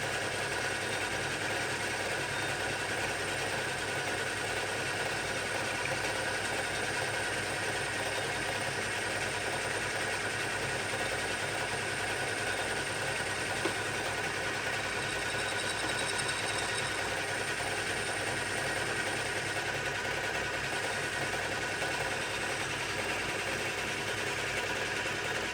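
A lathe bores out backgears for a project lathe, giving a steady, continuous mechanical whir and hum with faint cutting noise, close and unchanging throughout with no talking.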